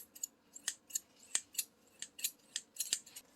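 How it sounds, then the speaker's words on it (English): Scissors snip through paper or card for a summer Frisbee craft project, about a dozen quick close crisp cuts in a steady irregular rhythm, with no talking. "scissors"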